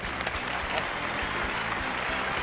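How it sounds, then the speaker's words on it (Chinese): A studio audience applauds on a Chinese television antique-appraisal show, a dense, continuous burst of clapping filling the room at full volume throughout. "我们要不要专门来一次掌声给吴大师呀？"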